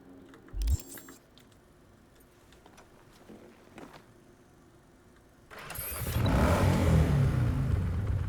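A motorbike in the video game Cyberpunk 2077: a sharp click, then a long quiet stretch, before the engine catches and settles into a loud, sustained rumbling rev for the last few seconds.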